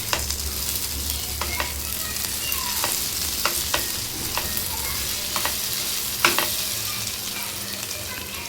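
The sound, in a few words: stirring cooked onions for dry fish curry in a pan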